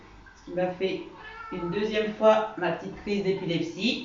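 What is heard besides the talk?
cat meowing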